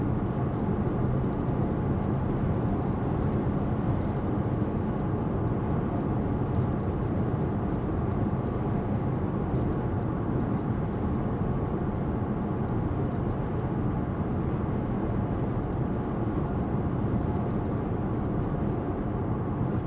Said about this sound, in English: There's a little bit of wind noise at highway speeds